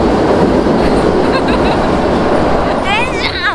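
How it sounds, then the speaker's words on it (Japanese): A train rumbles past near a shop at the Tsuruhashi Korean fashion store, a steady loud roar that fills the whole clip, with a high metallic wheel squeal near the end, and a voice speaks over it. "電車、もう電車ちょっと待ってって感じなんですけど"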